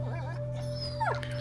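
A dog in the video game A Plague Tale: Innocence gives a brief high whimper over a steady low hum of game ambience, one short whine near the end.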